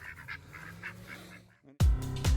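Ducks quack and honk in a loud, close burst at the end, after faint scattered bird calls and background murmur.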